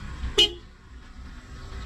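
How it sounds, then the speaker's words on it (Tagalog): A single short Toyota Rush car horn honk, close and clear, over a quiet idling background. "the horn"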